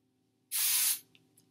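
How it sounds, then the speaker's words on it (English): A can of hair texture spray releases one short, close hiss of about half a second onto hair, followed by faint rustling. "So I'm going to spray it in"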